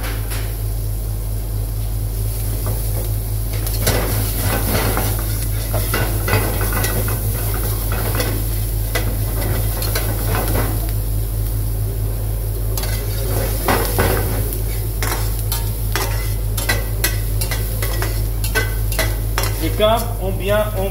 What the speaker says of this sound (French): Vous voyez les oignons et le piment, quand on regarde bien, ça commence à griller.